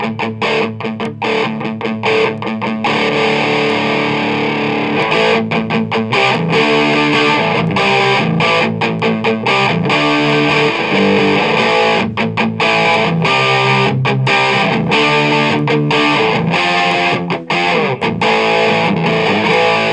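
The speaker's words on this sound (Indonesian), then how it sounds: "Kita geser ke distorsi." An electric guitar plays through the distortion setting of an Ammoon Pockmon multi-effects pedal, loud and saturated, with rhythmic chugging strums and short choked pauses between chords throughout, no talking.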